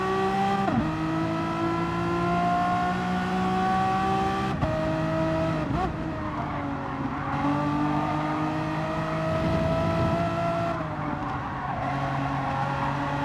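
Renault Megane Trophy race cars in a racing game, engines droning continuously at high revs with pitch dipping and climbing through gear changes, loud and steady throughout, with several cars blending together.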